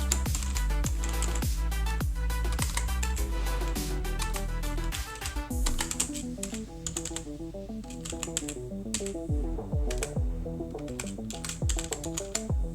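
Steady, rapid typing on a computer keyboard, close and fairly loud, with dense clicking keystrokes continuing throughout and no talking.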